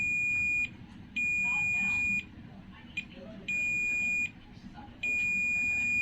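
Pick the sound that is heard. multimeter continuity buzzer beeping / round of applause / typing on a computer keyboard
multimeter continuity buzzer beeping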